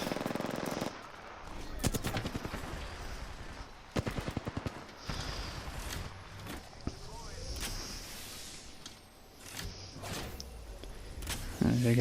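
Gunfire fills an Apex Legends firefight with repeated sharp bursts and single shots at shifting distances, alongside mechanical game sounds, and speech runs under part of it.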